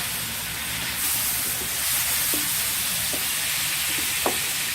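Squid, about a kilo, sizzles and fries in a paella pan, a steady soft hiss with a few light stirring clicks, close and continuous without talk.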